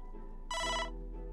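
A phone text message notification rings once, a short bright electronic chime lasting under half a second against a low steady hum, with no talk.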